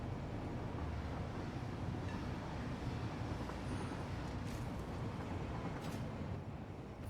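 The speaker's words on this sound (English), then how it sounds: "Let's ride the train. Come on, ride the train, the choo-choo" Train ride in the video game Satisfactory, a steady dense rumble of wheels on the track that holds level and loud throughout with no voices.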